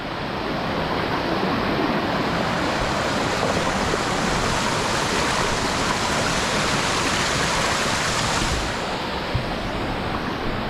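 Stream rushing over wet rocks along a jungle trek trail in Colombia, a dense, constant roar of water that stays close and loud throughout with no voices.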